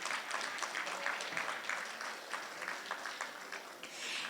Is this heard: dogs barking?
no